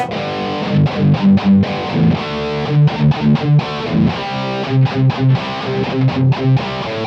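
Heavy distorted electric guitar playing chugging power-chord riffs in short rhythmic bursts, loud and saturated, with brief pauses between phrases.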